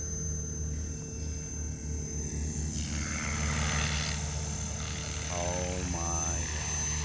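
A model helicopter's rotor and motor whine steadily at close range, a sustained buzzing hum with shifting pitch, a couple of brief rising tones near the end.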